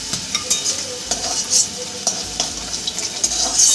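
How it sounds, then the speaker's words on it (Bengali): Chapila fish frying in a pan for a mustard-poppy seed curry, giving a steady close sizzle with light scraping and stirring taps throughout, no talk. "ঠিক এপিট ওপিট করে আমি মাছটাকে ভেজে নিয়েছি"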